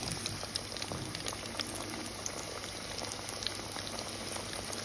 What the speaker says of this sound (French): je vais commencer à faire frire mes poissons